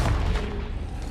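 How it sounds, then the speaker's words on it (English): A Confringo blasting spell explosion in the video game Hogwarts Legacy, a single heavy low boom that rumbles briefly and close, without speech. "Confringo!"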